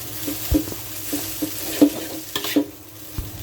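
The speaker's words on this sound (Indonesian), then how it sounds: "kita mulai aduk-aduk sampai semua bahan tercampur rata." Fried rice vermicelli filling for risoles being stirred in a hot pan, a soft sizzle under several scraping strokes of a utensil close by, with no voices.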